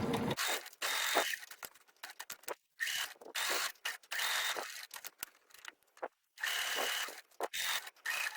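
A sewing machine stitching a pillow, heard up close as rapid whirring, clattering mechanical runs broken by brief pauses, loud and alone with no talk.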